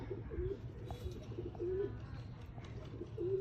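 Pure Mian Nazir bloodline breeder pigeon cooing in repeated soft, low warbling phrases, three clear coos spaced about a second apart over a steady low background hum.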